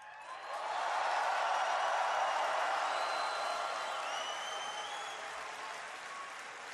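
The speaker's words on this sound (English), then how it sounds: "I want everyone here to give a big cheer to all of your friends watching at home." Large arena crowd at the BlizzCon 2013 opening ceremony applauding and cheering, a dense wash of clapping that swells quickly, holds with scattered whoops and whistles, then slowly tapers.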